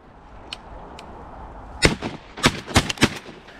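Shotgun blasts on a Minnesota duck-hunting opener in the marsh, several sharp, loud cracks in a quick irregular cluster near the end, preceded by faint clicks over quiet outdoor background.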